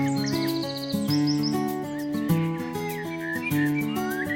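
Bright, repeated chirps and whistled tweets, like a parrot's, ring out over steady layered background music in an animated product explainer.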